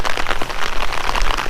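Heavy rain pours steadily onto a red Chevrolet Camaro SS and the ground around it, a dense, continuous hiss with scattered droplet patter, loud and close with no voices.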